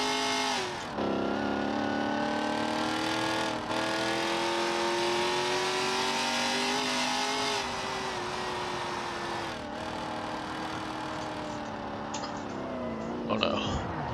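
A modded sports car in the BeamNG.drive racing game revs hard past 5,000 RPM, its engine note climbing and holding loud and continuous, with a few brief shift dips and a calmer drone near the end.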